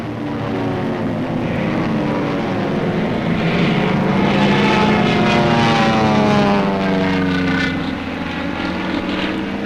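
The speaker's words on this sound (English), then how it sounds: "The support air director contacts carrier planes circling the target." World War II carrier planes circling over Iwo Jima, with a loud, continuous droning roar of propeller engines that swells and shifts in pitch as the aircraft pass overhead.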